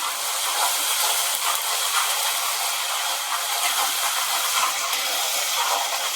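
Ginger garlic paste frying in a hot pan for chicken curry, a steady, bright, close sizzle and hiss that holds constant throughout with no talking.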